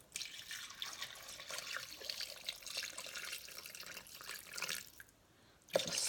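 Liquid pours into a Thermomix bowl sitting on scales for a mushroom risotto, making a steady close trickle that eases off and stops, followed by a brief clunk.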